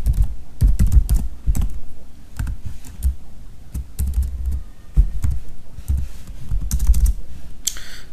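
Computer keyboard keys clatter close to the mic in quick, uneven bursts while CSS is typed, with short pauses between runs of keystrokes. No one speaks.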